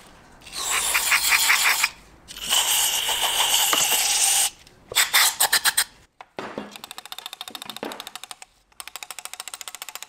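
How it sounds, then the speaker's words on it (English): Brake cleaner is sprayed onto a car part in several loud, close hissing bursts with short pauses between them, followed by rapid clicking and rattling noises. "We're just using some brake cleaner."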